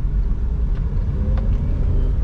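A car engine hums steadily while driving, with continuous low rumble and a couple of faint clicks as the driver shifts through the gears; no voices heard.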